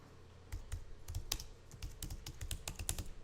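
Someone types a file name on a computer keyboard, a quick close run of light key clicks lasting a few seconds, with no voice over it.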